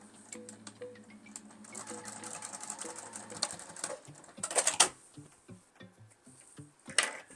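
A sewing machine runs in short bursts, stitching a fabric book sleeve closed along both seams, with a quick rattling stitch rhythm, brief pauses, and a couple of louder clacks near the end.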